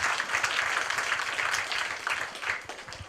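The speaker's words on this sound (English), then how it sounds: "give yourselves a hearty round of applause" A crowd applauding steadily at a primary school award ceremony, a dense wash of many hands clapping at once that holds for a few seconds, then thins slightly toward the end.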